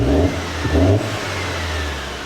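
A Mercedes-Benz C250 W204 in sport mode revs its engine, a near, steady mid-pitched drone with two swells of acceleration early on before settling into a sustained hum, with no voices.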